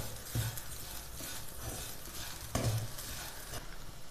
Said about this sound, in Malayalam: പഞ്ചസാരയും കൂടി ചേർത്ത് നന്നായിട്ട് ഒന്ന് ഇളക്കി യോജിപ്പിച്ചെടുക്കാം